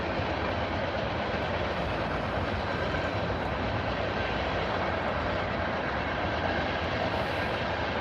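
A train rolls past close by, a loud continuous rumbling roar with steady clatter that holds at full strength throughout, with no voices.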